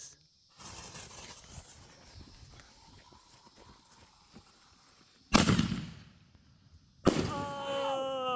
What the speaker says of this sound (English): Can you blow up the kite with the fireworks?